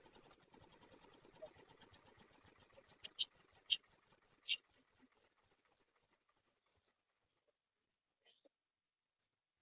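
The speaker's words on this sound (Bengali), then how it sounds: "তাহলে তোমাদের আমি ইঞ্জিন স্টার্ট করে দেখা দিলাম" A 5 HP pump set engine runs with a quiet, steady, rhythmic mechanical chatter for about six seconds. A few sharper knocks stand out near the middle before it falls almost silent.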